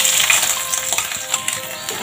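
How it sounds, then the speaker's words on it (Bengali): Soya chunks fry in hot oil in a kadai, giving a steady bright sizzle with small crackles and a few metallic ticks, close up and without voices. "সোয়াবিনগুলো ভাজছি"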